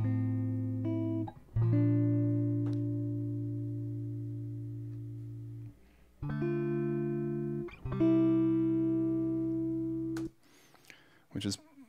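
Dry electric guitar recorded in Logic Pro X with no effects, playing a few sustained chords and single notes that ring out and fade, with short gaps between phrases and a brief scratchy noise at the end.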